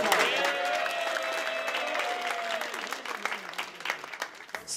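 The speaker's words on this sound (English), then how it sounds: "give it a big hand of applause for yourself" An audience applauds in a hall, a dense, even patter of claps that carries on throughout while a voice talks over the top of it.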